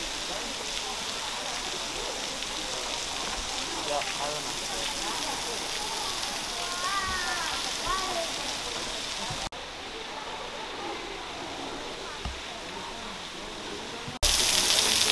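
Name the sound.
waterfall in Zion National Park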